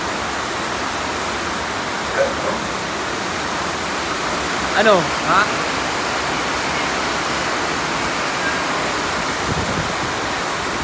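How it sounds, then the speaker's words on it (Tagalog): Steady, heavy rainfall roars as a dense wash of noise throughout, with brief bursts of talk rising above it now and then. "Di ko alam kung naririnig nyo ako kasi napakalakas ng ulan."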